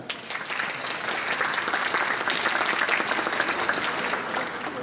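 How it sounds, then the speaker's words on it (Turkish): Sustained, dense applause from a crowd at an Ankara celebration of the anniversary of Ardahan's liberation, loud and steady throughout with no letup. "Lütfen kendinizi bir alkışlayın."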